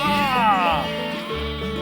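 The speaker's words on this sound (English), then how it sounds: "Where'd those sheep go? Here they come." A sheep bleats nearby in a wavering, falling cry on a farm, with a voice briefly overlapping the call.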